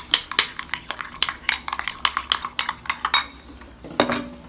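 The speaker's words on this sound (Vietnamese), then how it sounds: "sau đấy các bạn trộn đều hỗn hợp lên" A spoon mixes sugar and lemon juice face mask paste in a bowl, clinking and scraping against the sides in a quick uneven rhythm of close taps, ending with one firmer knock, no speech.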